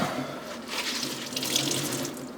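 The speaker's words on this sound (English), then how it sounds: "Just gonna wring them out." Water squeezed out of soapy football gloves over a sink, with a continuous close splashing and trickling stream running for the whole stretch and no talking.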